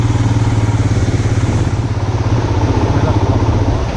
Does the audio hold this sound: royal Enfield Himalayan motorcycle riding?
yes